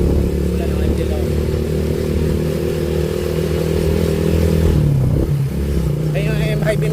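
A Suzuki Raider Sniper 150 motorcycle engine on a test ride, a steady loud hum with a brief dip in pitch as it shifts gears near the end, with wind noise and someone speaking over it.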